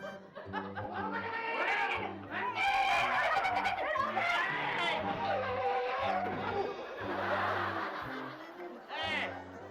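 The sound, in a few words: car speeding and skidding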